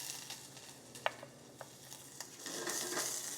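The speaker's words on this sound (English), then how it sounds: "Just going to give it a quick saute in there" Ginger and garlic saute in sesame oil in a sauce pot, with a soft sizzle, a few light utensil clicks and stirring taps, and the frying hiss swelling louder toward the end.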